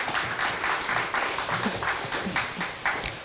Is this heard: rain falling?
no